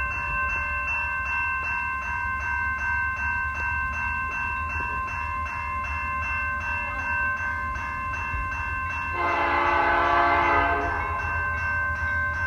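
A BC Rail train rolls past on the Mount Clemens subdivision in Warren, Michigan, with a sustained multi-tone horn sounding continuously over steady wheel rumble, swelling louder and brighter near the end as it draws closest.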